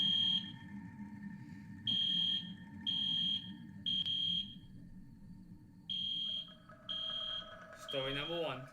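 School fire drill alarm sounding in repeated loud, shrill electronic beeps of roughly a second each, with short gaps, over a steady room hum and a final burst of warbling tones.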